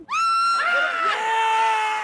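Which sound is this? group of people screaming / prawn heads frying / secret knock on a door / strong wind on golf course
group of people screaming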